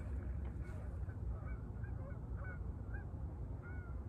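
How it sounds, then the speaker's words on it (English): A flock of geese honking as they lift off from the water and fly south, several overlapping calls at moderate distance over a steady low rumble of background noise. "hear the geese?"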